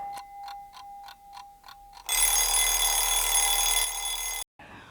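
A kitchen oven timer goes off while potatoes cook: a steady pulsing beep repeats about eight times, then a loud continuous electronic ring sounds for a couple of seconds before cutting off, close and alone with no talk.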